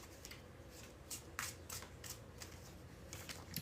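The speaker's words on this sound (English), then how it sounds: "I must shuffle these cards back into the deck." A deck of tarot cards being shuffled by hand, quiet, with a string of soft riffling bursts and light card snaps at an uneven rhythm, no talking.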